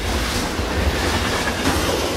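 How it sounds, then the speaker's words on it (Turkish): Steady loud rumble of a train moving at speed, a continuous rushing roar with faint rhythmic wheel clatter and no voices. "Temel Metin'i duyduğu yüksek hızlı trene ilk defa binmiş"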